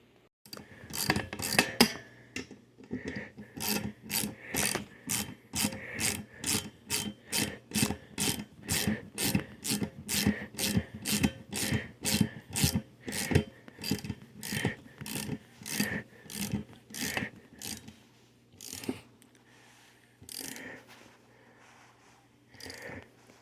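A ratchet tightens 10 mm screws on a luggage rack for a 2023 Indian Challenger motorcycle, producing a long run of rapid, evenly spaced rasping clicks up close, slowing to a few scattered strokes at the end.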